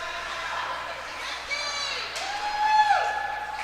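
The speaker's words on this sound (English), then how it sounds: "the crowd chants Nicky beside us" A youth varsity hockey crowd at a Kings Park Commack versus Smithtown Hauppauge game chants and cheers "Nicky" in the arena, swelling toward the end beneath a commentator's steady play-by-play.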